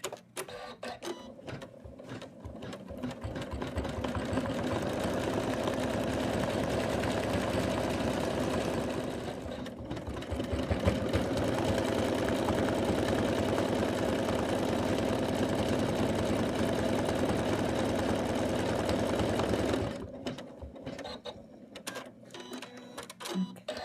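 An embroidery machine stitches an in-the-hoop Santa design, a steady rapid mechanical whirr that runs for long stretches, pauses briefly, then resumes before stopping, close and moderately loud.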